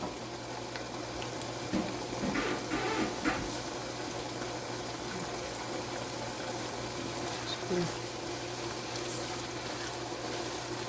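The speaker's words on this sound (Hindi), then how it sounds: "एक से 2 मिनट के लिए मैं इसको फ्राई कर लूँ" Minced meat (keema) frying in a pan: steady frying sizzle with a low constant hum underneath, a few soft scraping clatters rising briefly above the hiss.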